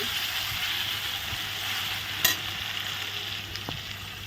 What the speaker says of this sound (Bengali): লবণ হলুদ দিয়ে আলুগুলো ভেজে নিচ্ছি